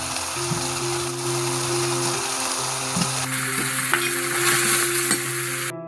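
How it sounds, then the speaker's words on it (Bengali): Boal fish curry with fried potato pieces, turmeric and salt being stirred in a hot pan, a continuous close sizzle and frying hiss with periodic scraping knocks of the spatula, growing brighter toward the end. "এবার মা ভালো করে নেড়ে চেড়ে নিচ্ছে।"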